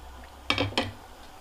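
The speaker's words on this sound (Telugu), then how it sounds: "మూత తీస్తున్నానండి." A lid lifted off a cooking pot of Kambala Kadala tomato curry, giving two short metallic clanks close together against a quiet background with no talking.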